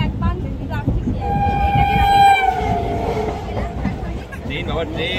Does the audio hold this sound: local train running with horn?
yes